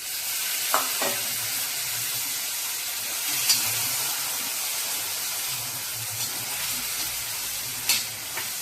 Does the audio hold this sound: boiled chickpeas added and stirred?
yes